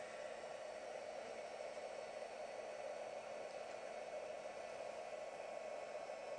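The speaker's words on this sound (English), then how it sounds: "we're just going to heat emboss that now" A heat tool blows a steady, even airy hiss as it heat embosses stamped powder on a card background, constant and unbroken with no talk over it.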